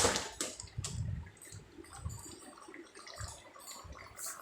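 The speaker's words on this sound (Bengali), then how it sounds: "দেখুন সুন্দর টকবক করে ফুটে উঠেছে" Chickpea masala curry boiling in a pot, giving off soft irregular bubbling plops and gurgles that rise and fall at a fairly quiet, close level.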